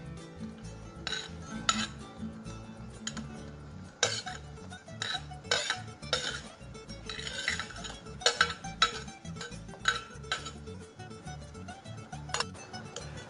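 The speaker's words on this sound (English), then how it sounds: "I stir the onions on the hot oil" Chopped onions being stirred in hot oil in a casserole, a utensil scraping and clinking against the pot in irregular strokes, close and clear, with oil sizzling faintly underneath.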